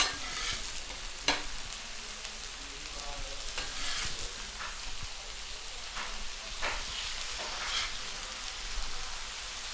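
Smashed burger patties topped with onions sizzle and crackle on a hot griddle as they are flipped, with a steady frying hiss broken by a few sharp scraping spatula clicks, close and alone.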